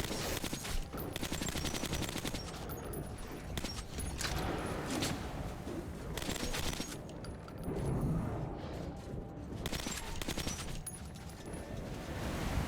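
Rapid bursts of automatic gunfire from the video game Metro 2033 Redux rattle almost continuously, dense and harsh, with brief gaps between volleys and no talking.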